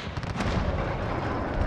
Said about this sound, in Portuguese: Acho que é tiro. Tiro inimigo,